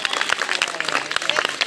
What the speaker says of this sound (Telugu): క్లాప్స్ కొట్టాలి పిల్లలందరూ కూడా